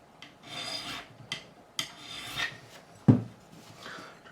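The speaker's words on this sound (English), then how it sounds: "I can certainly hit that with a file, and I'm going to do it spot leveling style, just freehand." Hand file leveling guitar frets freehand along the fretboard radius: short rasping strokes, several in succession with brief pauses, close and fairly quiet, ending with a duller knock.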